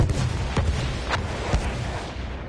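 Artillery strike in Battlefield 1 during a Rush clan battle: dense, continuous rumbling barrage with several sharp booming impacts punching through, loud and close, no talking.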